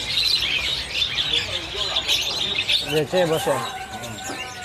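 White starling chicks chirp in steady high twittering at a kiosk in Pasar Pramuka bird market, with other birds calling around them and a person speaking close by.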